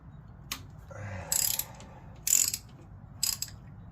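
A ratchet clicks in four short bursts while loosening 12 mm bolts during intake manifold removal on a 1995 Nissan Maxima, with quiet pauses between the close, crisp bursts.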